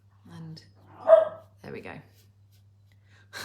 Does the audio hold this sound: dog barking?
yes